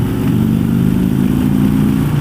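A 2016 Harley-Davidson Road Glide rumbles steadily up close on a test ride, its low engine drone holding constant with no talking.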